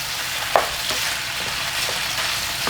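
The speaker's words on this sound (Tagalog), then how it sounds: "Gusto ko lang sanang maluto ng konti pa yung bawang" Garlic frying in oil in a pan for pork adobo in coconut milk, a steady close sizzle with occasional stirring clinks, no voices.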